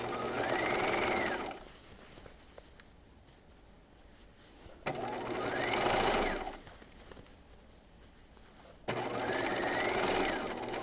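A sewing machine stitches a dress seam in three steady bursts of fast, close mechanical running, each separated by a short quiet pause.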